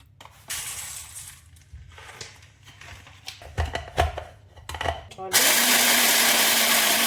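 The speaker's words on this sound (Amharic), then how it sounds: "እዚህ ጋር እዩት፣ የዱባ ፍሬ አሁን እፈጨዋለሁ በደንብ አድርጌ።" A kitchen blender grinds pumpkin seeds, first in short bursts of rattling chopping, then settling into a loud, continuous high whir near the microphone.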